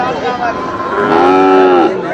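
A cow lets out a loud, drawn-out moo close by at a cattle market, its low lowing call rising and swelling before trailing off.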